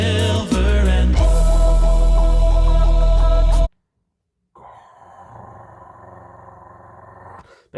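A man in an a cappella reaction setting imitates a low growl. There is a short sound, then a deep, loud rumbling growl held for about two seconds. It cuts to silence, and a fainter, sustained low vocal tone follows.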